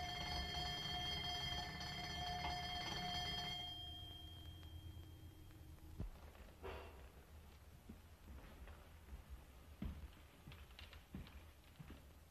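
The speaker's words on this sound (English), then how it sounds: "And the doorbell rang." A faint electric bell rings steadily for a few seconds and stops, followed by soft footsteps and light knocks in a quiet room.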